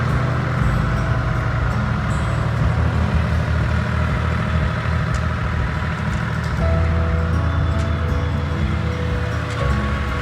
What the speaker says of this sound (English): I heard the tractor coming up the road